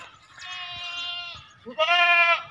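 A breeder-quality male goat bleats twice at a livestock sale, first a long wavering call and then a shorter, louder one.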